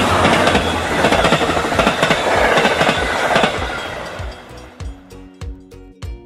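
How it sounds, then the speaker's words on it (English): A train rumbles loudly along the tracks, then fades into a clear, rhythmic clickety-clack of wheels over rail joints. "A train sounds like this."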